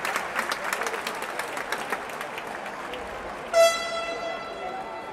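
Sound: applause for substituted basketball player

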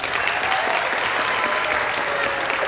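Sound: applause for Theo

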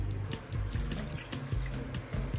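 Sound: water being poured into pot for boiling pig ears

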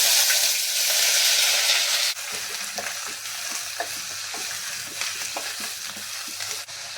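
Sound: green chillies, curry leaves and onion frying in coconut oil

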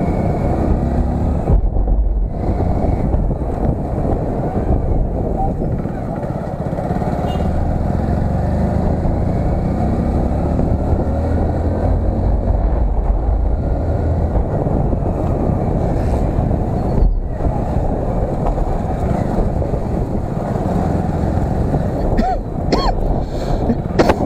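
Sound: Hero Splendor Plus motorcycle riding fast, wind noise

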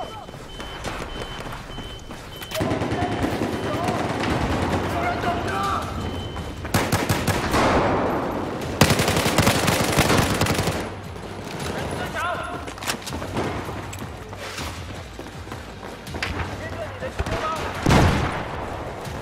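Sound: gunfire in the video game Battlefield 4

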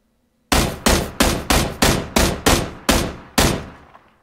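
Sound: gunfire in the video game PlayerUnknown's Battlegrounds

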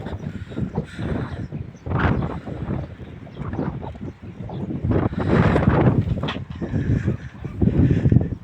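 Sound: strong wind

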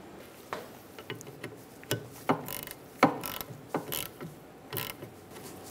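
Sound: ratchet snugging brake hose union bolt on Nissan Altima

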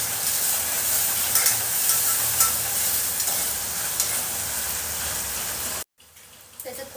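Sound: chillies and biryani masala sizzling while stirred in pan

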